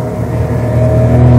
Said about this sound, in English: that's the engine at 6000 rpm. That's a lot of sound.